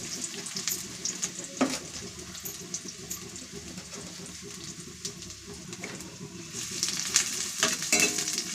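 Chopped onions frying and sizzling in hot oil in a home kitchen, a steady crackle with occasional stirring scrapes, close and fairly loud with no voices.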